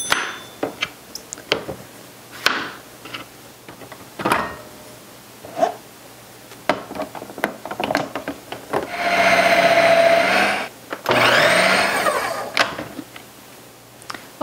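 Zucchini is fed through a food processor fitted with a shredding disc, giving two loud whirring bursts of a few seconds each, with scattered clunks and knocks from handling before them.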